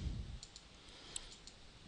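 Mouse clicks in embroidery software while setting up a pre-cut line and satin border for Inspira cutwork needles, a few soft, isolated clicks spread over a quiet background.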